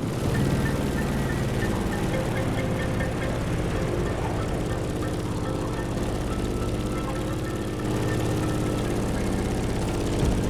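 A Grumman F8F Bearcat propeller fighter engine in a video game drones steadily and loudly for the whole stretch, a continuous low rumble with a slight dip partway through.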